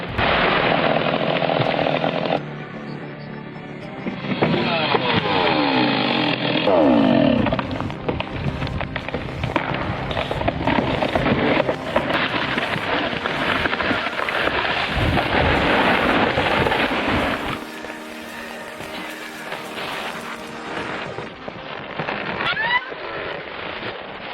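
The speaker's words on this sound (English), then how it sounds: "the stump splitting attachment attacks the root mass with raw hydraulic power" A tracked excavator's hydraulic stump-splitting attachment tears apart a tree stump and its root mass, making a loud, sustained roar of grinding and cracking that swells and eases in waves.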